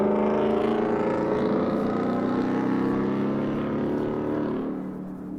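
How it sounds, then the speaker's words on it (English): A loud car engine roars past on a street in Farmington, New Mexico, a steady close rumble that stays strong for several seconds before easing off at the end. "people like their loud cars"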